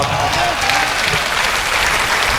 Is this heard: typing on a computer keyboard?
no